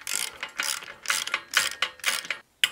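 A long-reach ratchet wrench turns a 12mm bolt on a Royal Enfield Interceptor 650. Close, crisp pawl clicks come in quick bursts of several strokes, with short pauses between them.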